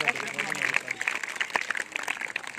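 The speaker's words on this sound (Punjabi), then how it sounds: "ਇੱਕ ਵਾਰੀ ਜ਼ੋਰਦਾਰ ਤਾੜੀ ਮਾਰੋ" An audience at a school Independence Day event in Moga breaks into steady, fairly loud applause, many hands clapping together for a few seconds with some voices mixed in.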